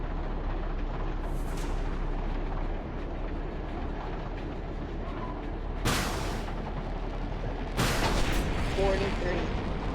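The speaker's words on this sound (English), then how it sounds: "now let's try an anti-tank missile." An anti-tank missile fires in the Roblox game War Tycoon, with two sharp, loud blasts a couple of seconds apart and a fainter burst earlier, over a steady low background hum.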